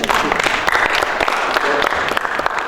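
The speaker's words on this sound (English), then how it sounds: "Let's give a round of applause" An audience at a business and entrepreneurship event in Zimbabwe claps in dense, sustained applause, steady and loud throughout, with a few voices mixed into the crowd noise.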